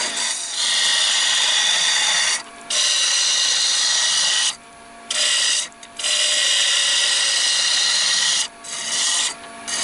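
A wood lathe tool scrapes and rasps against a spinning wooden Dalek, removing excess wood from its base in loud sustained bursts separated by short pauses.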